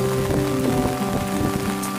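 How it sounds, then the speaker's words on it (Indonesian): Steady rain pours down on the island of Panu while fish grill outdoors, a dense, continuous patter across the whole stretch with a low background hum and no voices. "Hujan pun jadi nih"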